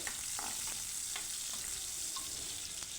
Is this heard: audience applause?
no